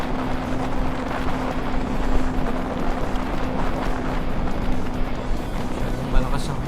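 Strong wind roars steadily across a motorcycle ride on the C5–CAVITEX link near a toll gate, a dense continuous rush with a faint engine hum beneath and brief gusts, loud and close throughout.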